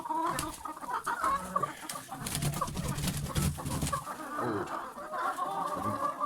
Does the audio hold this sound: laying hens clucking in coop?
yes